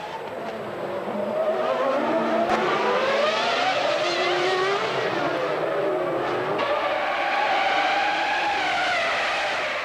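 Formula 1 cars of the 2000 season, Jordans and McLarens battling, scream past with loud rising and falling engine whines that overlap and sweep in pitch, steady and close throughout.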